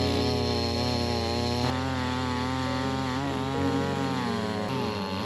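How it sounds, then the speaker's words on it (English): A saw cuts lengthwise through a tree trunk into slabs, its motor buzzing loud and steady with a rich harmonic whine that shifts in pitch under load. "trying my best to keep the saw straight."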